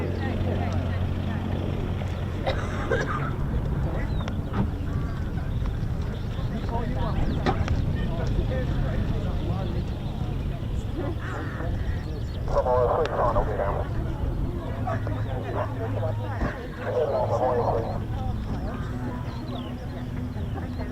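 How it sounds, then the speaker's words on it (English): A Hawker Hurricane, LF363, comes in to land at RAF Coningsby, its engine a steady, distant drone running beneath continuous commentary. "Hurricane LF363, first to land."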